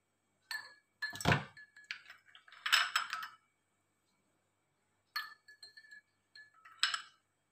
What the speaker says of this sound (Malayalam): ഇനി നമുക്കിതിലേക്ക് ഐസ് കഷ്ണങ്ങളൂടെ ചേർത്ത് കൊടുക്കാം.